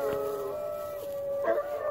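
Several dogs, a husky among them, howl together in long sustained wavering tones outdoors, with rising howls swelling near the start and again toward the end.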